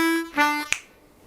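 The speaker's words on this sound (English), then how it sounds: "which is the turnaround in bar 12, which sounds like this." Blues harmonica playing a short bar-12 turnaround of draw and blow notes, clear harmonic tones in two quick phrases followed by a brief sharp click, alone and close.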